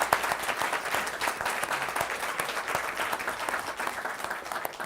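An audience applauds after a talk, a steady wash of many hands clapping at moderate volume, sustained for a few seconds with a slightly distant, roomy quality.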